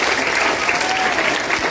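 A crowd at a free NMMS coaching gathering in Guntur applauds with steady, fairly loud clapping that fills the whole short stretch.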